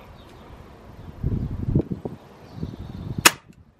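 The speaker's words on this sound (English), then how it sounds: "Right, here's the third shot, low power." A Weihrauch HW45 spring-piston air pistol fires one low-power shot, a single sharp crack near the end after a stretch of soft rustling and handling noise outdoors.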